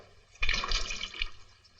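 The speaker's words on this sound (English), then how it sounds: "Just use the bottled water out of the cooler." Bottled water pours from an office water cooler in a 1952 film scene, a single brief splashing gush lasting under a second, close and fairly loud, with no talk.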